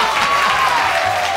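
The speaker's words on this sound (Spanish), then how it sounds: "Un aplauso para Raúl," A television studio audience breaks into sustained applause for a comedian named Raúl, a dense, even wash of clapping at full volume throughout.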